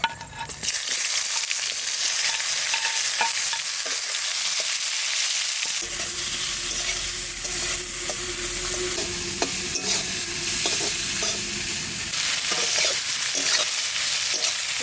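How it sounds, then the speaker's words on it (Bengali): Steady oil sizzle in a wok with a brief louder hiss partway through as dry red chillies, cumin and onion are added, continuing evenly near the microphone. "অল্প তেল দিছি কড়াইতে এবার দিয়ে দেবো শুকনো লঙ্কা আর জিরে পেঁয়াজ"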